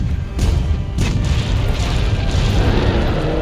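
Cannon firing in the action game Monster Hunter World: a couple of heavy booms early on, followed by dense, continuous low rumbling and crashing, loud and close.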